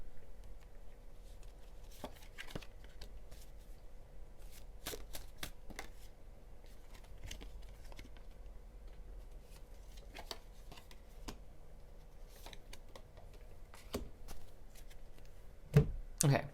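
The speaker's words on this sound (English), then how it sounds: "Okay, let's do another little shuffle here." Repeated crisp riffling bursts of tarot cards being shuffled, close by, over a quiet low hum, with a sharper clack near the end.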